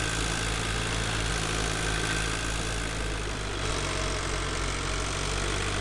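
A tractor engine idles steadily at a constant low rumble in Farming Simulator 2013, a continuous near drone with no other sounds over it.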